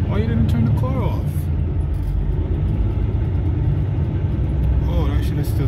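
Car engine left idling after an accident, a steady low rumble running throughout while people talk nearby.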